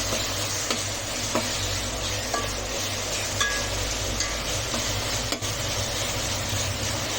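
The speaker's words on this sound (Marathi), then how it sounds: "आता ती पण त्यामध्ये फ्राय करून घेणार आहोत।" Tomato and masala paste frying in oil for chicken pulao gives a loud, continuous sizzle and hiss, broken by occasional light clicks and scrapes of stirring; no voices.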